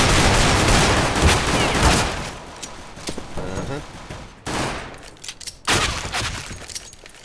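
Rapid bursts of gunfire ring out in an Overwatch match, dense and loud at first, then returning in sharper volleys after a lull, with game effects layered throughout.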